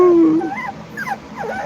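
Puppies at a puppy farm whimper and let out short, rising yips close by, a high thin whine at first followed by several wavering little cries.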